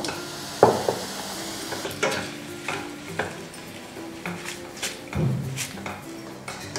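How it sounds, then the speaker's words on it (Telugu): Cornflakes frying in a pan for street-style tomato bajji toppings, with a soft continuous sizzle broken by repeated clacks and scrapes of a spoon stirring against the pan, close and moderately loud. "ఇప్పుడు కొన్ని కార్న్ఫ్లేక్స్ తీసుకున్నాను నేను, వీటిని కూడా వేయించుకుందాము."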